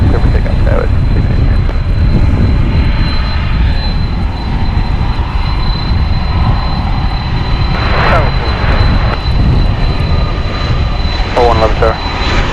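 A regional jet thunders down runway 18 left at DFW on its takeoff roll, a loud, sustained broadband engine roar that fills the whole span, with brief radio chatter cutting in near the end.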